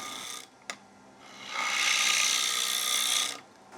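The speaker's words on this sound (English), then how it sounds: "First thing, I'm just going to clean this blank up here." A gouge scrapes a wooden bowl blank spinning on a wood lathe, a steady close hiss and rasp of cutting that swells for a long pass after a short first touch.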